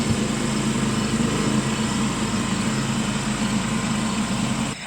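A diesel tractor engine idles steadily close by on a farm, a constant low throbbing rumble that stops abruptly at the end.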